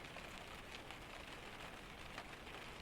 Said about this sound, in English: the sound of the rain on the roof directly above you